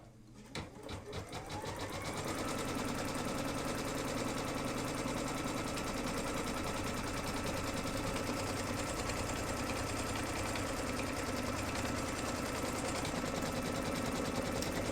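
An embroidery machine stitches a batting placement line for an in-the-hoop bag, a steady, close, rapid mechanical whir with fine rhythmic needle chatter that starts up and then runs evenly and continuously, with no talking.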